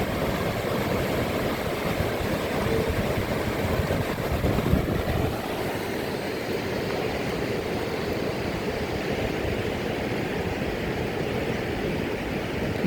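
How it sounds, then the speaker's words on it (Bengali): A fast-flowing rainwater flood stream in Al Buraimi, Oman gives a steady, close roar of rushing water that barely changes in loudness, with no voices. "দেখেন পানির স্রোতের অবস্থা দেখেন আপনারা"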